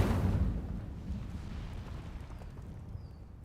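An Incendio fire spell cast in Hogwarts Legacy: a deep, rumbling burst of flame that hits loudly at once, then fades slowly into a low roar, heard alone.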